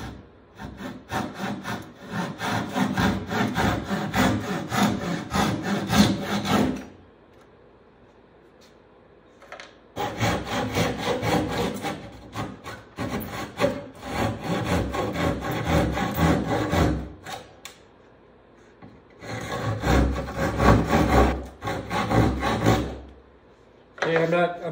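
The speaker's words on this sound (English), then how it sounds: "We should be able to take our saw and we'll just go slow and" A hand saw cuts excess wood off a wooden paddle board in a workshop, making steady rasping back-and-forth strokes in three long sawing spells separated by short pauses, loud and close.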